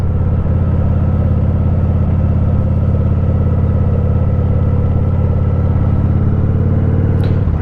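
A motorcycle rides steadily in second gear, its engine a loud, constant drone close to the mic, mixed with wind rush, with no clear shifts.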